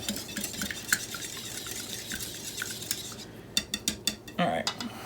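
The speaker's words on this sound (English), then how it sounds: "I just use the whisk, beat the egg up" A whisk beats an egg for meatloaf in a bowl, with a continuous close rattling of metal against dish, then a few sharper isolated clinks near the end.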